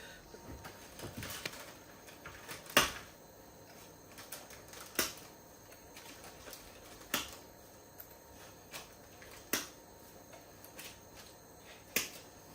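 Secateurs snip the ends off kebab skewers in a quiet kitchen, giving a series of sharp, isolated clicks spaced a couple of seconds apart.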